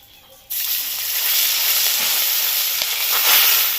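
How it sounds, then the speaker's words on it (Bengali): Fish pieces drop into hot oil and burst into a loud, close sizzle that starts abruptly after a quiet moment and holds steady, with faint spattering crackles on top. "বাকি যে মাছগুলো আছে ওগুলোকেও একে একে ভেজে নিই"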